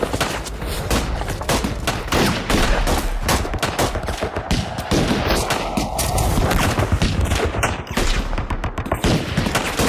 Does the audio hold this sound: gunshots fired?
yes